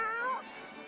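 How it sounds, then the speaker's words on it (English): Grimalkin cat monsters in the Ni No Kuni video game give a short, bright meow that descends in pitch and fades into a softer tail, faint and heard alone. "All cats!"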